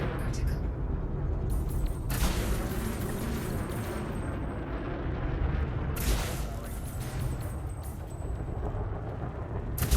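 Ship weapons firing on targets in the space combat game Elite Dangerous, flown in a Cobra Mk V bounty-hunter build: a dense, continuous roar of blasts, with sharper surges standing out from the steady barrage.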